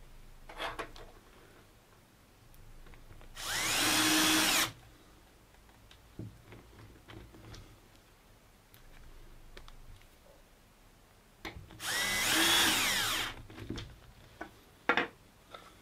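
A power drill drives 3x12 mm screws to fit drop-down doors, two separate bursts of roughly a second each with quiet handling noises between them.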